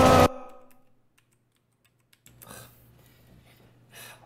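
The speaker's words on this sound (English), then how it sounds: "My fingers are flying across the keys." Fast typing on a new computer keyboard: a loud brief burst opens, then a quiet pause before a dense clatter of keystrokes picks up nearby and carries on to the end.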